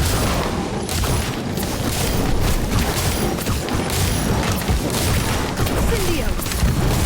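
Spell effects from the Ventus wind spell in the Harry Potter Magic Awakened video game: a dense, continuous wash of booming, crashing battle noise that stays loud throughout, with no quiet gaps.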